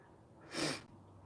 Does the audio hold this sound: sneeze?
yes